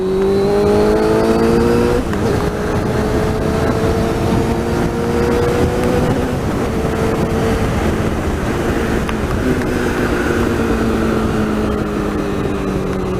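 A 1998 Suzuki GSX-R 600 motorcycle engine heard while riding: a loud, steady engine drone with rising revs, two gear shifts and continuous wind and road noise.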